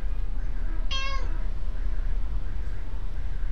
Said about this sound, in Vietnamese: Sự kiện con mèo này cũng khá hay